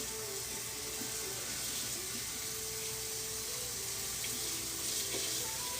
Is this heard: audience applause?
no